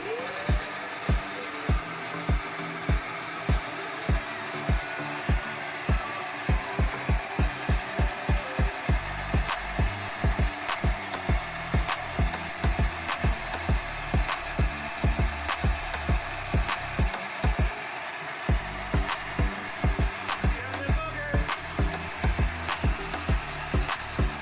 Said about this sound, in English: I'm going to kick on the shop vac and show you exactly what I'm doing to suck this calcification out